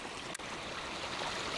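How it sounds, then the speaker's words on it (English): A small stream flowing beside the Buffalo River hiking trail in Arkansas, a soft, steady wash of running water heard alone with a brief bump partway through. "We came across one of the many streams."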